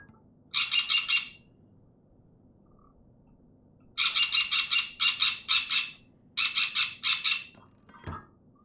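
Spooked birds squawking in loud rapid bursts of harsh calls, one short burst then several clustered volleys separated by quiet gaps, close by.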